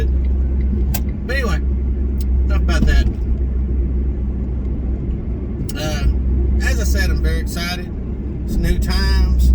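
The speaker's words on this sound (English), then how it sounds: "hear all three of them cylinders from the smart car, all 70 horsepower" A 70-horsepower three-cylinder Smart car drives along, its steady low engine drone and road rumble running continuously up close, with bursts of higher-pitched sound breaking in at intervals.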